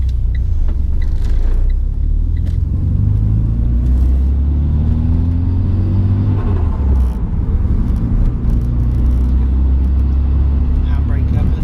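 A Renault Twingo GT with upgraded brakes drives along a road, its engine and road noise forming a loud continuous rumble while someone talks over it.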